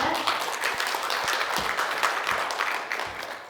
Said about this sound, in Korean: 여러분의 박수로 청해 듣겠습니다